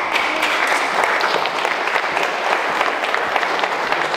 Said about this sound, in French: leur donner une bonne main d'applaudissement aussi